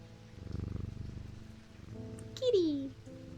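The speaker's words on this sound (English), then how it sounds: "And I pet the cat." A cat purrs when petted in the video game Strange Antiquities, a soft rumbling texture at moderate volume, with a brief rising meow-like tone near the end.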